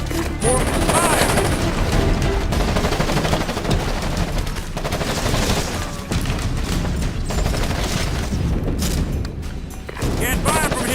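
Dense, continuous game gunfire from Ghost Recon Advanced Warfighter on Xbox One X, with rapid bursts and heavy booms layered together under squad voice callouts throughout.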